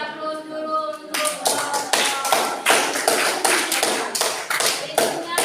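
A classroom group claps together in a lively, dense burst of applause that starts sharply after a moment of quiet and continues steadily, close and loud.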